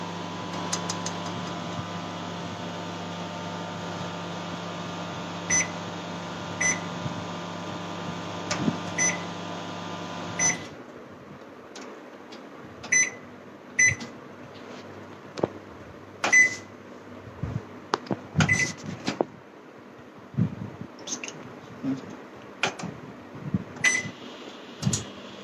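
A microwave oven heating corn hums steadily for about ten seconds, then falls quiet and gives way to a scatter of sharp beeps and clicks.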